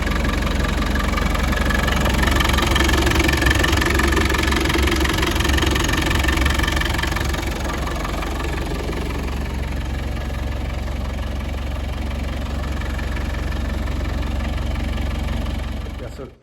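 The 200 TDI diesel engine of a 1990 Land Rover Defender runs close by, a steady low idling rumble with a faint knocking clatter, easing slightly in level partway through.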